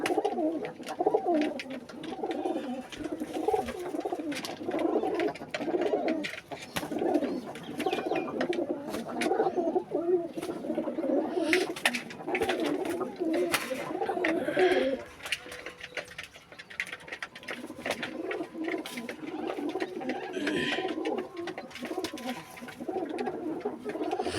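Rajshahi Giribaj pigeons cooing together in a loft, a dense, continuous chorus of low rolling coos with scattered flutters and clicks, close and steady throughout.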